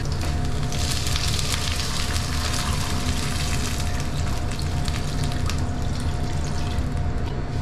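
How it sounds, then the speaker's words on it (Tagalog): Water pours steadily into a pot with a continuous rushing splash, close and even throughout, with no voices. "Lagyan natin ng tubig."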